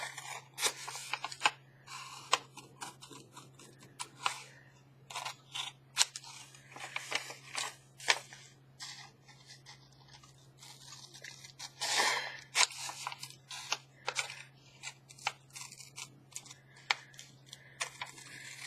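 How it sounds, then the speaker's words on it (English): Scissors snip and crunch through antique book-page paper while an envelope is cut out, in short irregular bursts of close, crisp cuts with small pauses between them. "Cut it out."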